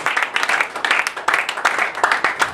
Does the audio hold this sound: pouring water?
no